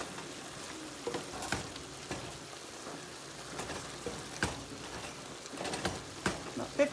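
Taco filling frying in a pan, a soft continuous sizzle with scattered crackles and pops, a few louder spatters toward the end, no talking.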